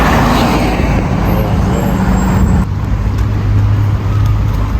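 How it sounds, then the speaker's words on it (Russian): A number 9 city bus rumbles past on a busy street in Sumgait, Azerbaijan, its loud, close engine and road roar filling the scene amid general traffic noise. "Девятый автобус проезжает."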